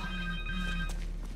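A cell phone rings in Marvel's Spider-Man 2, a steady electronic ringtone repeating in short bursts over low game ambience, with no speech.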